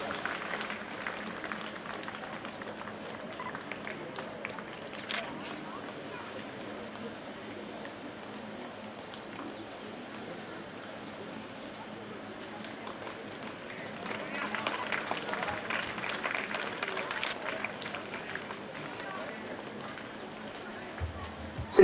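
Audience applause at the opening of a school sports competition at Saraswati Bal Niketan senior secondary school, a steady broadband patter of clapping that swells near the end, with voices in the background.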